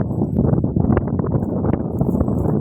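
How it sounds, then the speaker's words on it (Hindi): Strong windstorm blowing across open grazing ground where goats are feeding, a loud, steady broadband roar with gusting rumble and buffeting against the microphone, continuous throughout with no talk. "ये देखो बहुत भयंकर आंधी आई है भाई"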